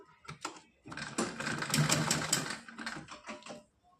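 A sewing machine stitches a doubled seam on a small decorative outfit, a short burst of quick rattling stitches that starts, stops briefly, then runs again before trailing off.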